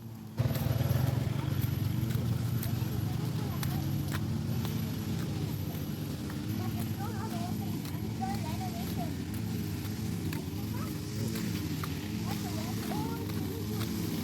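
A motorcycle passes along a park path in a nature preserve, its engine a steady low rumble running throughout the clip while people talk nearby.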